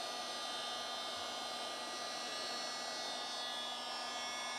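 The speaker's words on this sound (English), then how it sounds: "Now the big thing when you're doing post-heating with a heat gun" Heat gun on high post-heating paint protection film, a steady, loud blowing hum with a constant whine, unbroken and close, with no talking.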